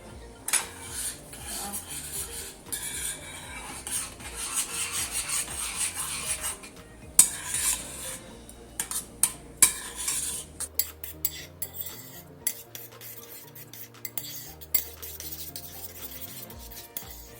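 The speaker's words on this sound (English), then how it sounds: "then you have to stir it with the spoon" A spoon stirring and scraping a mixture around a bowl for a jam-heart biscuit recipe, with steady rubbing at first, then sharper intermittent clinks and knocks against the sides, close and fairly loud with no talking.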